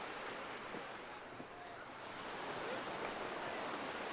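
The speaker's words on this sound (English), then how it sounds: "The tiniest of swells running towards the beach." Tiny ocean swells break on the beach at Fish Hoek, Cape Town, during a lifesaving sport race. The surf is a soft, steady wash with wind noise over it, distant and even, and no one speaks.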